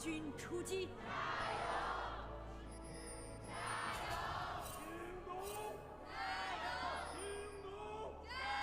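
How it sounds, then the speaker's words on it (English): A crowd at a Jingdong esports match chants in unison after a chant leader, loud, rhythmic call-and-response bursts in a large arena, with some speech mixed in. "Hear the Jingdong crowd chant leader."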